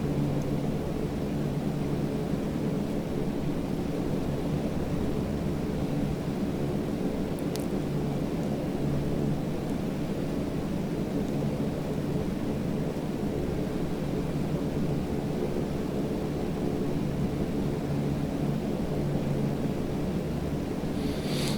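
Steady, broadband drone of the Dash 7 aircraft's turboprop engines in Microsoft Flight Simulator 2020, a continuous loud roar holding even throughout with no talk.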